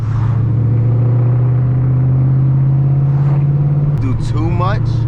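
A supercharged Ford Mustang GT engine rumbles loudly and steadily up close, a deep continuous drone, with a voice talking over it near the end.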